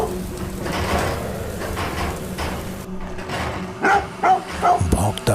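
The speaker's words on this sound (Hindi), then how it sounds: "भौंकता हुआ वो कुत्ता गेट की सलाखों से बाहर आने की कोशिश कर रहा था।" A dog behind a gate's bars barks in several short, loud bursts in the latter half, following a noisy stretch of rattling and background sound.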